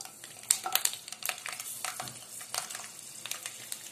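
Garlic goes into hot oil in a pan over medium heat and sizzles and crackles steadily, with light stirring scrapes, fairly quiet and without voices.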